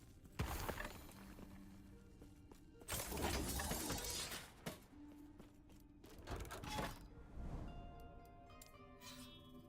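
Heavy hammer smashes crash and shatter in the action RPG Last Epoch, with a Paladin hammer build tearing through monolith enemies, several loud broadband impacts at irregular intervals over game music and effects.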